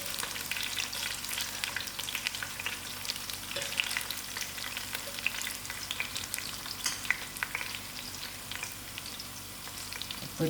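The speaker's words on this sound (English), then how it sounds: "I put in my cinnamon stick and my curry leaf and my thyme. I'll allow this to fry a little." A cinnamon stick, curry leaf and thyme fry in hot oil for a sugar beans curry, giving a dense, steady crackling sizzle with tiny pops, close and unbroken throughout.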